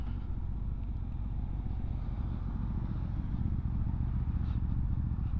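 A 2025 Benda LFC700 motorcycle engine runs with a raspy, throaty rumble, steady and fairly loud while riding, a constant low drone with no voices over it.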